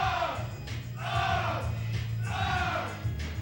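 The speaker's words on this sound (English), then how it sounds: "this crowd not happy about that" Wrestling crowd at a UWF event in Las Vegas jeering in unhappy swells, loud rising waves of booing and yelling that repeat roughly every second and a half.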